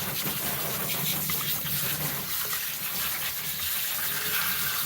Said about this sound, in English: the way I spray the water, I'm spraying it in the direction that I want the hair to lay